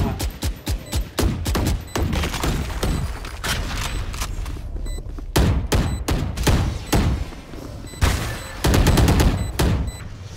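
Rapid bursts of Valorant gunfire, sharp repeated shots and volleys coming in clusters, loud and close, with brief gaps between bursts.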